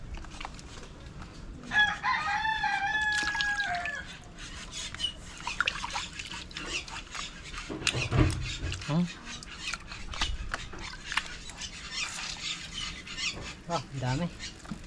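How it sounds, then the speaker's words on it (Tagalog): A rooster crows near the microphone, followed by scattered clucking and background rustling, while people talk throughout. "Ba, nandiyan naman mga ibon"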